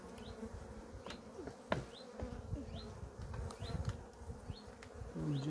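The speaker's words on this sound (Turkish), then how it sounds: "arı azgın oğlum" Honeybees buzz around an opened beehive in October in Ardahan, a close, restless drone with insects passing near, plus a few handling knocks and thumps from the hive.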